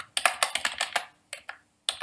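Computer keyboard keys tapped in a rapid run of about eight clicks, then a pause and a few scattered presses, close and clear with no talking, while a shape is moved in the TinkerCAD 3D design software.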